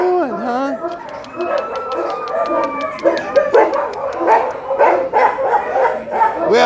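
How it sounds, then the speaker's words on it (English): Several dogs at an animal shelter bark and yip in a loud chorus of overlapping barks and howls, close and echoing, with a person talking among them. "What is everyone barking for?"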